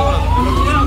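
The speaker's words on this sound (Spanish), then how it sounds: "Y aquí estaría entrando la ambulancia." A loud ambulance siren on a city street wails with a steadily rising tone over a deep engine rumble, close and continuous through the whole moment.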